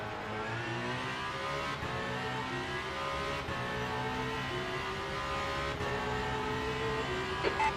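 Race car in the Le Mans Ultimate racing game accelerating hard out of a corner, its engine note climbing steadily and loud with layered engine harmonics from nearby cars, with no talk.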